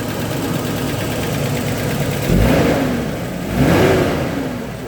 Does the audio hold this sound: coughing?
no